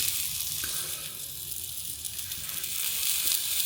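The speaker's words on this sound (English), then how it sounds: "how those cross cuts we made have opened up as the King Oyster mushroom cooks a little." A cross-cut King Oyster mushroom sizzles in a hot pan, making a steady, close, hissing crackle that continues throughout with no talk.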